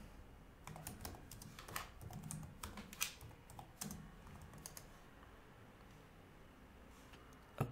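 Computer keyboard typing a command: quiet, irregular bursts of key clicks for several seconds, then a pause and a final keystroke, close and faint with no speech.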